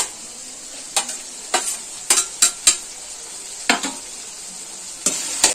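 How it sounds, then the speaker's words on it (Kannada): Ginger and garlic hitting a hot pan and frying in Karnataka/Kerala-style cooking: a steady low sizzle broken by about nine sharp stirring scrapes and clinks of a utensil against the pan. "ಇವಾಗ ಇಂಜಿ ಬೆಳ್ಳುಳ್ಳಿ ಹಾಕ್ತಾ ಇದ್ದೇನೆ"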